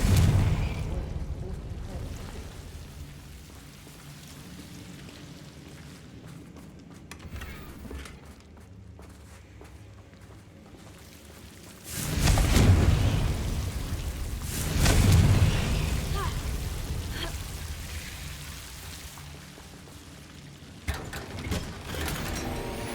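Confringo spells in Hogwarts Legacy burst as fiery explosions: two loud blasts several seconds apart, each swelling and decaying, set against quieter magical ambience, with a brief voice heard in between.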